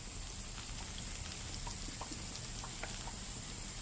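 Kara vada batter dropped into hot oil gives a steady, soft frying crackle with scattered faint pops, low and even throughout, with no talking.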